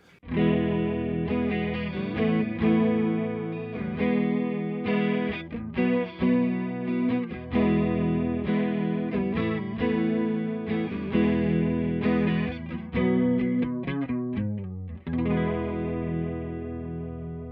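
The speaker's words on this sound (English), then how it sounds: "Quick hit of the chorus on sine." JHS Emperor analog chorus pedal on its sine-wave setting, shimmering over steadily strummed guitar chords that play continuously with a lingering final ring-out.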